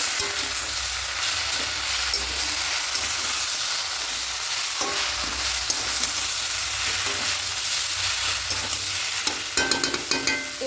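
Malabar spinach and lentils stirred in a pan, a steady close sizzle with scraping spoon strokes throughout and a flurry of sharper clinks near the end.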